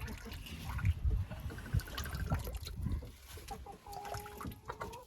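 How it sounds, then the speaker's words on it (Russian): Water trickles and drains out of a chicken coop's pipes and taps being emptied for winter, a soft continuous dribble with hens clucking faintly in the background. "Все, вода вся стекла."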